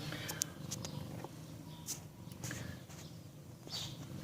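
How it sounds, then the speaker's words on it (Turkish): Three-day-old kittens nurse from their mother, with a steady soft purr running under faint suckling clicks and small rustles, close and quiet throughout. "Evet, üç günlük yavru kedilerin süt keyfi."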